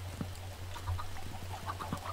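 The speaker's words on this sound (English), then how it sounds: "now there's lots of chickens up there" Minecraft chickens cluck in short, soft, scattered calls over a steady low hum, faint and somewhat distant, with no talking.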